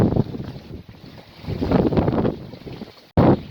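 A sailboat with one reef in the main runs with the wind behind it on a passage off the coast of Britain. Wind buffets the microphone in gusts over the rushing sound of the boat, and the noise drops out abruptly near the end.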